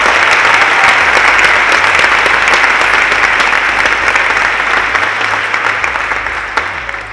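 Loud, dense audience applause fills a conference hall at an AI summit, sustained for several seconds before slowly easing off near the end.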